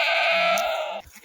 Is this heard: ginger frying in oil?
no